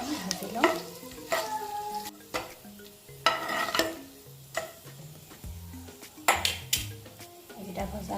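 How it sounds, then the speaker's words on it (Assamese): Bay leaf, cloves and cinnamon sizzle in mustard oil as a spoon stirs and scrapes the pan with frequent metallic clinks, close up and with no voices. "এতিয়া মই এইকেইটা ইয়াতে দি পেলাই অকণমান ভাজি ল'ম।"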